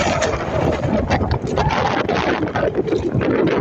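Strong northeast monsoon (amihan) wind buffets the microphone in a steady, roaring rush on a boat at sea off Negros Oriental, with broadband open-water noise, continuous throughout.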